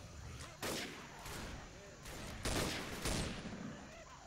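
A magazine is emptied in a video game as a rapid string of gunshots rattles along, with several heavier bursts standing out amid dense in-game noise.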